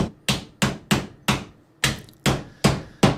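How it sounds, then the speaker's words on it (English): A hammer drives a nail through thin metal corner bead with nine sharp, ringing blows in a steady rhythm, close and loud with nothing else around. "This metal is super thin and you can nail through it pretty easy."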